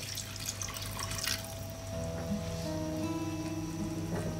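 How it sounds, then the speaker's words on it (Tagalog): Water pours steadily into a pot of chicken stew, a close splashing rush that shifts in tone as the vessel fills. "At maglalagay tayo ng tubig."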